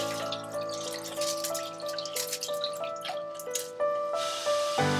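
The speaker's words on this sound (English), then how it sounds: "Once you've completely rinsed the rice, you're gonna drain it in a process called filtration" Rinsed raw rice drains in a kitchen, water splashing and trickling steadily with bright dripping and a few gurgling shifts, close and continuous, then a sudden louder gush of flow near the end.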